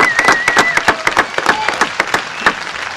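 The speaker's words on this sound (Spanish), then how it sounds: "Ni Messi, ni Messi tiene un aplauso como este." Audience at a cocktail festival in Rosario breaks into a burst of applause, dense rapid clapping close and loud for a few seconds.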